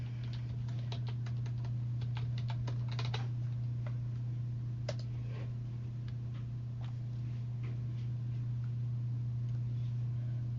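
A computer keyboard is used to type a library card number, giving faint, irregular clicks and key taps over a constant low electrical hum, busier at first and then sparse.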